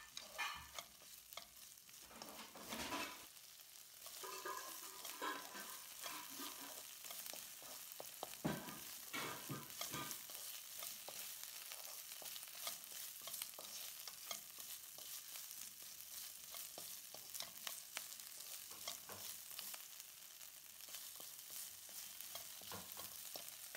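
Carrots sizzle and scrape in a pan as they are stir-fried, a quiet continuous frying hiss with spatula clatter early on.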